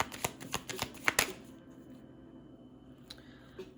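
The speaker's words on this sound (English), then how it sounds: "let me get one more card" Oracle cards riffled and shuffled during a card reading, a quick burst of crisp papery flicks for about a second, then quiet with a couple of soft taps later, close and alone.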